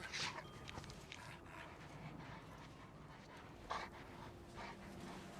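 A dog pants in the Mad Max video game while being carried on foot toward a buggy, a quiet rapid breathing rhythm with a couple of sharper whimpering bursts, low in level and alone without talk.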